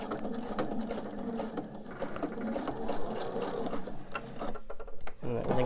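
A sewing machine stitches slowly and steadily while quilt pieces are sewn with precise needle placement, its soft mechanical whirring and ticking running close and continuous before pausing near the end, with faint talk alongside.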